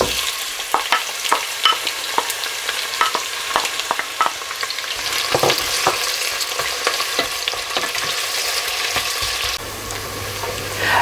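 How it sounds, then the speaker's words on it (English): Onions and whole spices fry in hot oil for a lamb and chana dal curry, a loud, continuous sizzle broken by frequent sharp clicks of stirring against the pan, with no voices. "I'm going to add my whole spices in and then my onions, and we're going to fry them for about 5 to 6 minutes"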